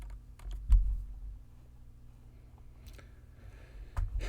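A computer keyboard is tapped while working in CAD software: a few scattered, crisp keystrokes and clicks, close and fairly quiet, with pauses between them.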